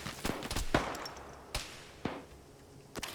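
Gunfire in an OFCRA PvP military match, a few sharp distant shots scattered irregularly over faint background noise, no talk.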